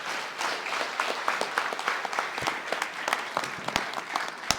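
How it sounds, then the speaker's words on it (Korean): Audience at the 100th Shared Growth Forum bursts into sustained applause to welcome a speaker, dense clapping steady and fairly loud throughout with sharper individual claps standing out near the end. "나오실 때 큰 박수로 맞이해 주시기 바랍니다."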